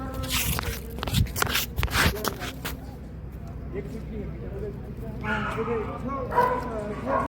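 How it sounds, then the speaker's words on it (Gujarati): A mother dog and her newborn puppies beside a canteen-like shelter give sharp barks and yips early on, followed by softer whimpering, all under near, steady talking voices. "અહીંયા કૂતરી વ્યાણી છે તો આપણે ગલુડિયા જોઈએ"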